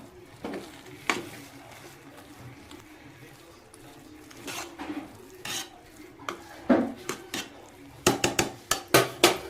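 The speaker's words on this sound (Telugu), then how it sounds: "చల్లుకొని ఒకసారి కలుపుదామండి" A spoon stirs coconut rice sprinkled with coriander in a cooking pot, scraping and knocking against the metal in irregular clinks that turn into a quick run of sharp taps toward the end.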